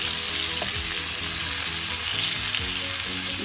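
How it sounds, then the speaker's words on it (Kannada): Brinjal masala frying in oil in a pan over a low flame, a loud, steady sizzle with soft stirring scrapes, no voices. "ಸಣ್ಣ ಹೂರಿನಲ್ಲಿ ನೀವು ಇದನ್ನು ಫ್ರೈ ಮಾಡ್ಕೋಬೇಕಾಗುತ್ತೆ"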